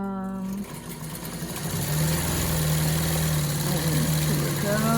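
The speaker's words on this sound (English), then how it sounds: "I am sewing at a 1/4 inch seam allowance." Sewing machine running steadily as it stitches elastic onto an N95 mask cover at a quarter-inch seam, a continuous close motor hum with a brief pause near the start.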